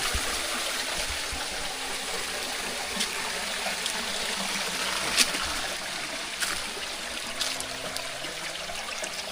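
Released water streams out steadily at a riverside catch-and-cook spot for freshwater prawns, a continuous trickling, splashing flow with a few brighter splashes and drips, fairly close and alone without talk.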